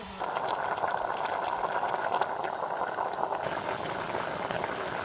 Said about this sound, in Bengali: ছ করে আওয়াজ হচ্ছে, ভেতরে কিন্তু জল ফুটছে।